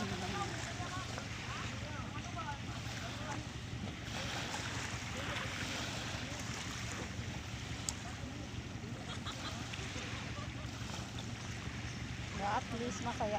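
A small boat putters along on a calm sea, engine hum steady beneath wind buffeting the microphone and the wash of waves.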